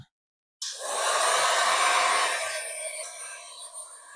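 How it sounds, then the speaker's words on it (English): A heat gun blasts on abruptly and keeps up a loud, steady hot-air roar while stripping black peel-and-stick tile off the top of vintage furniture, close by and then easing slightly. "I started by using a heat gun and a scraper to remove that"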